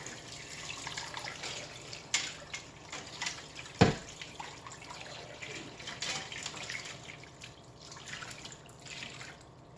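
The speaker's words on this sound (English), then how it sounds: "And we go with the water." Water runs and splashes into a pot of chicken for stock, with a sharp clunk partway through and trickling drips continuing after.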